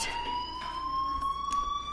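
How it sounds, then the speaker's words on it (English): A fire alarm rings in the video game Life is Strange, a steady high electronic tone that sustains through the whole moment, with faint pulsing bursts behind it at moderate volume. "Hey, do you hear that fire alarm? That means you should be outside."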